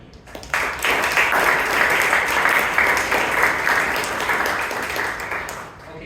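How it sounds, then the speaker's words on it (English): Applause for a speaker and an evaluator at a Toastmasters club meeting, a small room of people clapping that starts abruptly, holds steady for several seconds, and then tapers slightly. "round of applause to both speaker and the evaluator"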